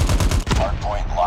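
Rapid bursts of video game gunfire crackle loudly in an objective-based multiplayer shooter match, a quick volley of shots followed by a brief pause and then more scattered fire, with voice callouts faintly underneath.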